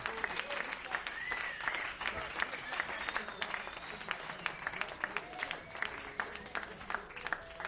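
An audience applauds a singer at a music show, sustained, even clapping from many hands filling the room at moderate distance, with faint voices underneath.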